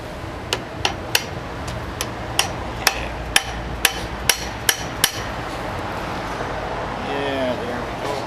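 A blower drive seal on a 671 supercharger is driven in with a length of pipe used as a seal driver, about a dozen sharp metallic hammer blows at a steady pace, then quieter background noise.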